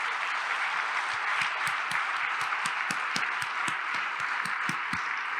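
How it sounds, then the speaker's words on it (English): An audience at an annual awards ceremony claps steadily for several seconds, a dense even wash of applause with distinct individual hand claps standing out. "please stand so that we can applaud you and thank you for your contributions"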